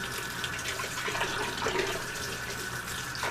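Water runs steadily as a Python aquarium water change hose is rinsed clean of saponified organic waste, a continuous close splashing flow without pause.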